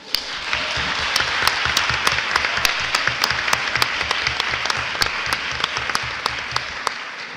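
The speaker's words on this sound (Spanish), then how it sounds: "Muy bien, aplausos." Audience applause at a round-table panel gathering, a dense steady wash of many hands clapping for several seconds with a few sharper individual claps standing out, tapering slightly at the end.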